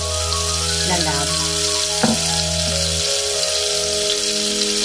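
Butter sizzling over low heat in a cooking pot, a steady crackling hiss under a constant electrical hum, with a couple of brief clatters partway through.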